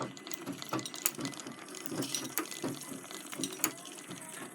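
A Singer 127 lock-stitch sewing machine winding thread onto its bobbin through a worm drive, gear and cam: a quiet, busy mechanical whir with a rapid repeating clicking tick, steady and close.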